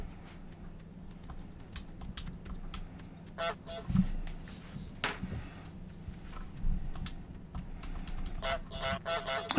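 Honks from the goose in Untitled Goose Game, a few short calls over a busy bed of clicking and rustling game sounds, moderately loud and close.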